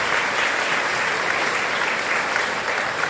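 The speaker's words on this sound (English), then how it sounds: "So let's go ahead and give them a round of applause." An audience gives a round of applause for graduates credited on Emmy-winning projects, thick and steady clapping from a sizable room, loud and unbroken throughout, with no speech over it.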